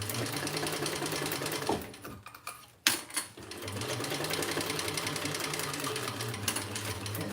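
A sewing machine runs a long, steady seam around a Mysa crossbody bag, its motor humming continuously nearby. It breaks off briefly midway, then resumes for a sustained run with no talking.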